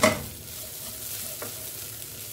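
Fenugreek leaves sauté in a pan for a methi potato thoran, giving a soft, steady low sizzle with a brief stirring scrape at the start. The sound is close but quiet, with no talking.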